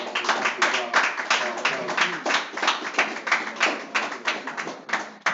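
An audience at a lecture claps hands in a brisk, continuous burst of applause, close and fairly loud, with voices mixed in beneath the clapping.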